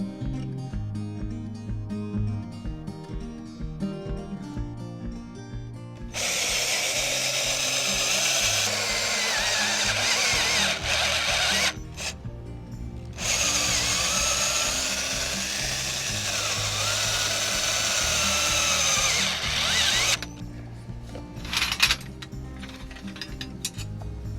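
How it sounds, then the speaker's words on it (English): Cordless power drill driving screws into EMT conduit hoops for a DIY low tunnel, whirring in several long bursts with short pauses between, close and fairly loud, with scraping and clicking between runs. "that's how you set up your drills to use the clutch function to not break screws"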